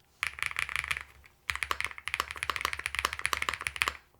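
Typing on a QK100 MKII mechanical keyboard with ABS or PBT keycaps, a dense run of quick close clacks with a short pause near the start, deep and chalky in tone.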